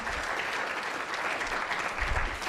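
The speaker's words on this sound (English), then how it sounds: "let's give a round of applause to Charlie Joyce for organising tonight" An audience at an evening lecture applauds the event's organiser, with a dense, even round of clapping from a full room and low rumbles underneath throughout the short burst.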